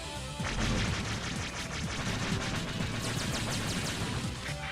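Rapid, repeated charged buster shots from Megaman X5, a dense, loud stream of blasts firing without pause, with no talk over them.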